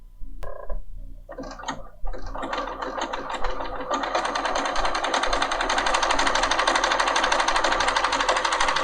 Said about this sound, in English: it's going to have the machine sew backwards without holding a button down